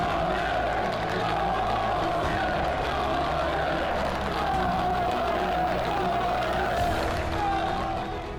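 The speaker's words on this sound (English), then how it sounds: "heard the crowd chanting his name, along with the anthem, "You'll Never Walk Alone."" Large football crowd at Feyenoord chanting a boy's name amid the stadium roar, a steady, dense wall of massed voices sustained throughout without pause.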